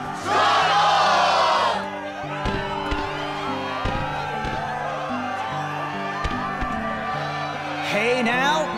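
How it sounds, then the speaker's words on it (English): An excited crowd cheers and shouts in a Kingdom Hearts 2 arena, a loud burst at first that settles under steady game music with occasional hits and effects. "the crowd is fired up"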